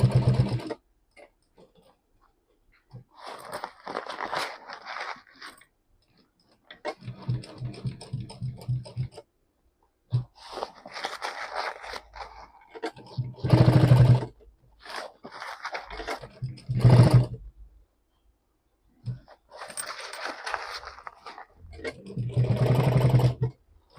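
Sewing machine stitching a sticker onto a bag made from jeans, running in several short bursts of rapid buzzing stitches separated by quiet pauses, close and clear.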